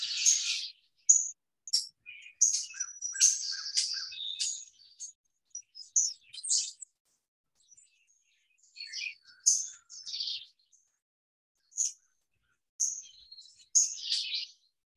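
Small birds in Rome chirp and tweet in quick, high, scattered bursts with brief pauses between, fairly faint and distant, with no other sounds.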